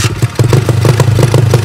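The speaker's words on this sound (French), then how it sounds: "sa moto elle démarre direct." A cheap Temu motocross motorcycle engine catches and runs, a loud close rapid chugging putter with a steady beat of firing pulses, no talk.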